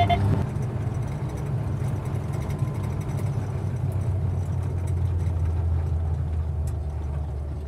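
A John Deere Gator utility vehicle runs at speed with a steady, low engine drone and rumbling wind and road noise, loud and constant throughout, with no talking.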